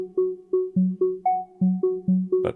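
Random repeating synth notes from the OCTAVE sequencer on a Korg Minilogue XD, about eight clean plucky tones at irregular spacing and shifting pitches, clear and alone.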